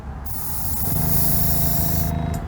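A spray gun hisses in one continuous blast for about two seconds, painting a Porsche car body, close and steady, then cuts off with a brief final puff.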